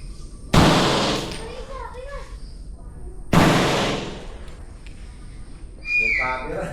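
Two loud, sharp gunshots ring out a few seconds apart at an outdoor shooting range, each with a decaying echo, while voices talk between them and a short whistle-like tone follows near the end.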